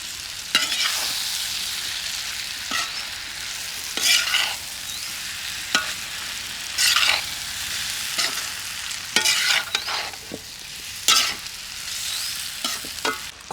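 Cucumber egg curry with spices fries in a pan while a spoon stirs and scrapes it repeatedly, giving a constant sizzle broken by bursts of louder scraping every second or two.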